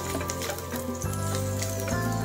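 Garlic sizzles and crackles in hot oil in a pan as it is added while cooking adobong bangus. The frying hiss is steady and close, with a low hum running underneath and no talking.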